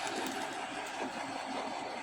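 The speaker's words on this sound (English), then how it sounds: "oh no this train is going keep going" Steady rumbling and rattling of a model train running on track, continuous and fairly close, with no talking.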